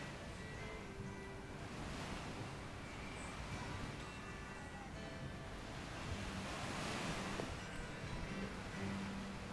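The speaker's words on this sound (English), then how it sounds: "We finally made it to the beach." Ocean waves roll onto a beach in Negril, Jamaica, a soft continuous wash of surf with gentle swells rising and fading, heard from nearby under light wind.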